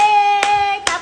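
A mother claps her hands twice, two sharp close claps about half a second apart, over a steady tonal background.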